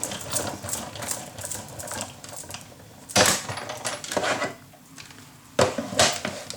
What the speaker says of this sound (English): move it to your cutting machine